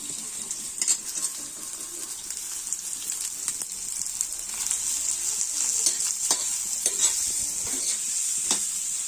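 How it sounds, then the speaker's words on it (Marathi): Onions frying and being stirred in a pan, a continuous close hiss with frequent clicking scrapes of the spatula throughout, no one speaking. "छान असे परतून घ्यायचे तर आता आपला कांदा परतून झालेला आहे"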